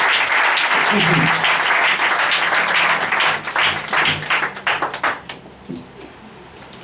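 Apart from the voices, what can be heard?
church congregation applauding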